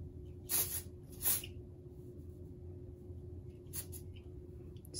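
Two short hissing bursts of texture spray go into hair, then a third fainter puff a few seconds later, close by over a low steady background hum.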